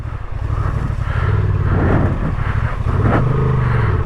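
A stock Honda Transalp 750 motorcycle rides a muddy ATV trail, its engine droning steadily and loudly up close with rising revs and throttle surges throughout, no talking.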